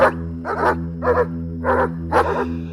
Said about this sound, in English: the barking continued and grew more intense.